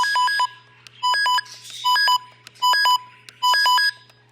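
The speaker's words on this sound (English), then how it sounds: "when it does the siren test," Loud electronic beeping from a Maxx Digital CR01NW weather radio's siren test, in five quick bursts, each a rapid cluster of high tones, repeating at a steady pace with short pauses between.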